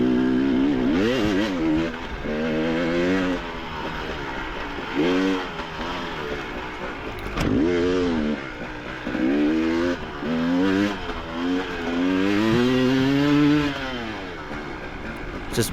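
An enduro dirt bike engine revs hard through second gear during a street and riverbed race in Puebla, Mexico, with close, loud repeated rising and falling pitch sweeps as the rider winds it out.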